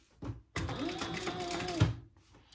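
A sewing machine top-stitches the C piece of an apothecary handbag in one short, close, steady whirring burst of just over a second, set between quiet moments.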